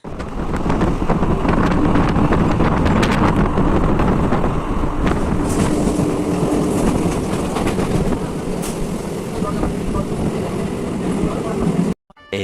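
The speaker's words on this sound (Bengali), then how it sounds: "আমরা ফাইনালি ট্রেনে উঠে গেছি আর ট্রেনটা ছেড়েও দিয়েছে" A moving train rumbles steadily with rattling carriages and rushing wind, a loud continuous roar that cuts off abruptly at the end.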